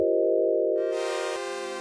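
A sine wave synth plays big wide open chords with slow attack and slow decay, a smooth sustained tone that swells brighter and richer partway through, heard alone.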